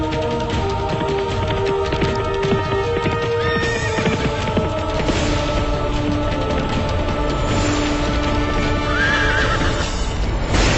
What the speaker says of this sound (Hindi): घोड़ा भिड़क रहा है